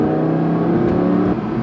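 Audi R8 V10 Performance supercar, 620 PS, on a hill climb: a brief, loud, close engine note with strong harmonic drone, holding steady then dipping slightly near the end, with no talk.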